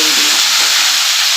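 Bhangor fish goes into hot oil in a kadai with five-spice, bay leaf and onion, giving a loud, close, hissing sizzle that holds steady for a moment.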